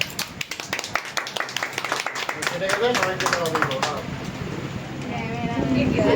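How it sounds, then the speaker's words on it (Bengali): Family members clap at a home anniversary cake cutting, a run of sharp, uneven close claps that gives way to overlapping voices and chatter. "দিদি দাদা ভাই ইয়ে হাততালি দিয়ে দাও"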